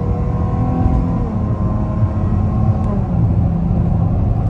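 A 3.6L V6 Pentastar engine revs at partial throttle, a steady close, loud droning growl with rising and falling tone that holds for several seconds, with no talk.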